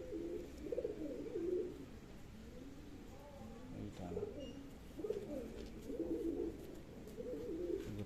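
Pigeons coo softly and continuously inside a pigeon loft, a low, rhythmic cooing from several birds at close range, with no other sounds standing out.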